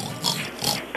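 A young child imitates a pig, making a short series of snorting oink-like grunts with the voice. The sounds come close and fairly soft in two or three quick bursts.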